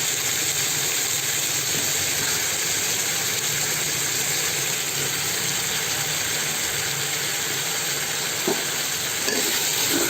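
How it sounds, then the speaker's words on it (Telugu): Brinjal slices frying in oil in a village kitchen, a dense, steady sizzle and crackle running without break, close by, with a faint stir or clink near the end. "బాగా ఒక 5 నిమిషాల పాటు బాగా నూనెలోనే బాగా వేయించుకోవాలి"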